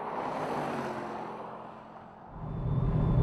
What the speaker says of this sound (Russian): Какой-то странный шум от автомобиля.